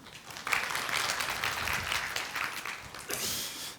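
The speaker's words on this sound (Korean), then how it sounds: "아무것도 안 하고 박수 받을 때가 제일 기분 좋습니다" A conference keynote audience applauds, a dense crowd of clapping hands holding steady for a few seconds, with a brief dip and then a renewed burst near the end.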